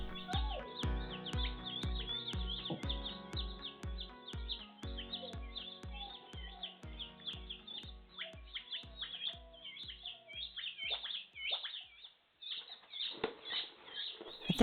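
Many newly arrived baby chicks in an indoor brooder peep and chirp continuously, high and close, over a rhythmic musical beat playing in the background.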